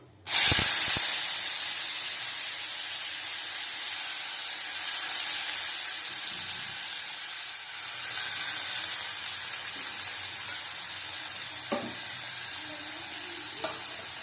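A large onion frying in oil with panch phoron, starting with a loud burst as it hits the pan, then a dense, continuous sizzle and hiss held close up with a few faint clinks.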